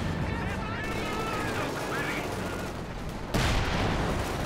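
Dense gunfire from Company of Heroes 2 as units shoot apart a fence: continuous crackling bursts and rattling shots fill the whole stretch, growing louder near the end.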